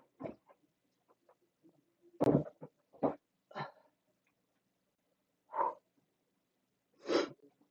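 A quiet room with a handful of short, sharp bursts, one louder sneeze-like explosion followed by several smaller snorts and exhalations spaced apart.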